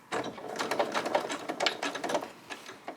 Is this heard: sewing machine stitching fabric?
yes